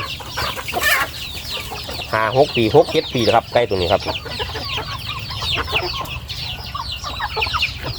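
Thai native chickens cluck and squawk nearby in a cluster of sharp, repeated calls that builds in the middle and then thins out. Someone talks over them throughout.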